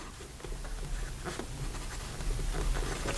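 Scratchy, faint strokes of a Benu Parrot fountain pen with a medium steel nib writing on paper, soft irregular scraping broken by brief louder swipes, close up against a steady low background hiss.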